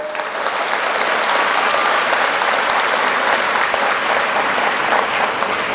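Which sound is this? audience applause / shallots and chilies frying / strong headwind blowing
audience applause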